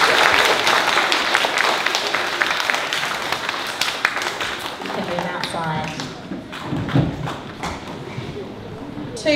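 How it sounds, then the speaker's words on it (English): Audience clapping at a primary school presentation day for a class receiving an award, dense and steady at first, then thinning out as voices and a child's chatter come through near the end. "Let's give 2S a great big clap."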